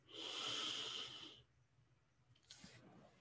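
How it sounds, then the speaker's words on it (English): A long, loud airy inhale through the nose lasting over a second, followed by quiet and a shorter, fainter breath sound, close to the microphone with no talking. "So we're going to inhale in through our nose"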